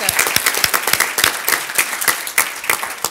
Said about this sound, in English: Let's give her another round of applause to Sheila.